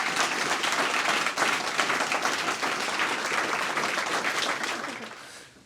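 An audience applauds a pitching competition winner with dense, steady clapping that holds strong for several seconds, then tapers off and fades at the end.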